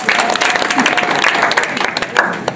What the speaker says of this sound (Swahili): Sawa mbona mwapigie makofi?